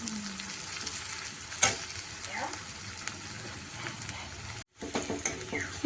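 Sanche saag greens frying in a pan, a soft continuous sizzle with occasional stirring scrapes and clicks, quiet and close, with a brief gap near the end.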